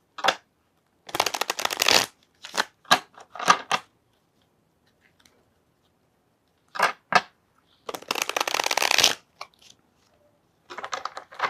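Tarot cards are shuffled and handled in several short riffling bursts with quiet gaps between, close and crisp, the longer riffles interspersed with brief taps and slaps of cards.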